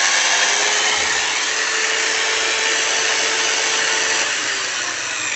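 An electric drill runs steadily, giving a continuous loud whir with no break for several seconds.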